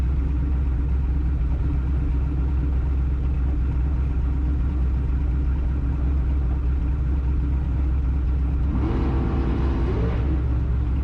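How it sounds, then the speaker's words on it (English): A drag race car at Pacific Raceways during a Friday night open test and tune, its engine rumbling steadily up close from inside the car, with a brief rise in pitch near the end. "Just kind of wanted to do a medium burnout."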